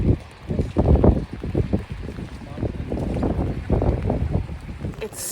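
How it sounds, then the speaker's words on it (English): Gusty wind buffets the microphone at a hilltop lookout over the Fez medina in Morocco, rising and falling in loud low rumbling bursts across the whole stretch. "It's so windy up here at the lookout."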